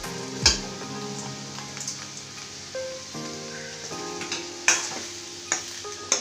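Steamed corn dumplings tossed with onions in a pan, a soft rasp of stirring with a low sizzle underneath and a few sharp spoon clinks against the pan.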